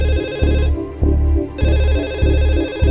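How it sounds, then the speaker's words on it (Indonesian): A telephone rings loudly and close, its electronic ring repeating in a steady rhythm with a brief gap partway through. "Film pun ditutup dengan telepon yang berdering."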